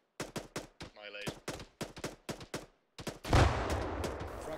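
ArmA 3 video game combat brings a rapid string of sharp rifle shots in uneven bursts, followed by a heavier, sustained roar of fire or explosion near the end, all loud and close.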